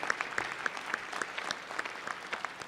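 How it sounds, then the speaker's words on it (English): Light applause from a small group in the Hawaii House of Representatives chamber, individual claps distinct and irregular, moderately faint and steady throughout. "If we can give them a round of applause"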